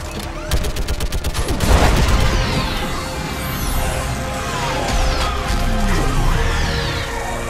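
A battle scene in Mass Effect 3 on the planet Rannoch, with a loud, dense fusillade of game gunfire and crashing impacts layered with explosions and whooshing effects, continuous and near throughout.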